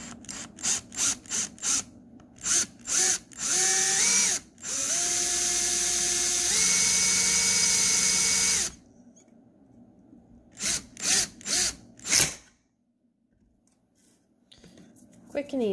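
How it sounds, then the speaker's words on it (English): Power drill boring a hole in a tumbler, several short bursts of whirring followed by two longer sustained runs with rising whine, then more brief pulses and a sharp final burst, fairly close. "You drill it here so you can seal the tumbler easier without making a lip on it."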